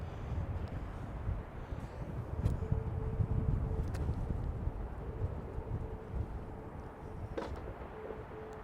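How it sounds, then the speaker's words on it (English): Strong wind gusts roar steadily across the open Waterloo battlefield in Belgium, a dense low rumble buffeting the microphone throughout with a faint tonal hum underneath. "The wind is rough."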